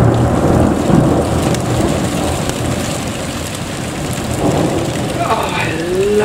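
A thunderstorm over London rooftops, with loud, steady rain pouring down and deep rolling thunder rumbling underneath, heard close and continuous throughout.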